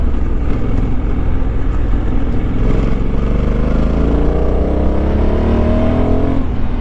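A 2022 Honda Africa Twin 1100 with DCT gearbox rides along winding roads, its engine a steady, loud drone with pitch rising through shifts and rushing wind throughout, no talk.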